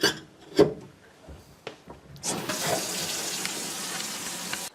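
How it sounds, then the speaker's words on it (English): Water runs from a newly installed kitchen faucet into the sink after plumbing work, starting as a steady rushing stream partway through, following a few scattered clunks and handling noises. "we ran some water here"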